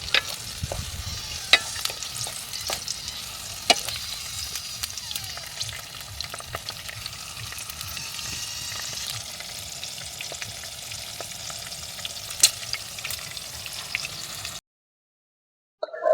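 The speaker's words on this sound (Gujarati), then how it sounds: "પહેલાં મરચાં સલાડ માટે તળી નાખી" Green chilies fry in oil on a camp stove at a forest campsite, a steady close sizzle with occasional pops and stirring clatter, running alone without speech before cutting off near the end.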